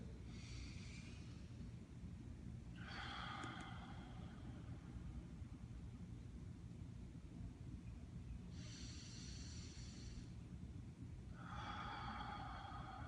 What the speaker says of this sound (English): So what I'm gonna have you do is do 10 deep breaths.